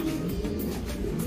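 Racing pigeons coo softly and continuously in a loft with Opal Kuypers birds, a low steady murmur of overlapping calls throughout with no talking.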